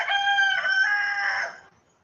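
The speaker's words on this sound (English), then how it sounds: "don't mind the rooster in the background, it's his time" A rooster crows once in the background, a single drawn-out cock-a-doodle-doo lasting about a second and a half, loud and clear before trailing off into quiet.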